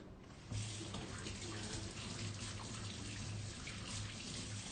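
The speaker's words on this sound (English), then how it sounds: "Let me wash my hands." A kitchen tap runs steadily as hands are washed under it, the broadband rush of water starting abruptly and continuing close by, with a faint low hum underneath and no talk.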